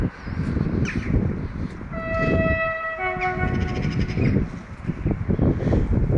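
Busy rail station ambience at the Afyon Karahisar train station, with a steady rumble of rail traffic and a drawn-out train horn sounding several sustained tones in the middle, close and loud, with birds faintly chirping.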